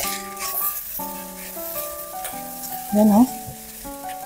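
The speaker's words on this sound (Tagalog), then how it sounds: "Then haluin ng mabuti." Fried rice with chili sizzles in a pan while being stirred, with a brief louder scrape and sizzle burst midway, all under steady background music.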